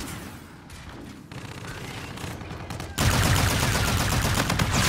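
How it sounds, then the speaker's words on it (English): Energy gun firing in Call of Duty: Infinite Warfare, rapid automatic bursts with a sustained louder stream of shots in the second half, dense and close over game ambience. "This is an energy gun, by the way,"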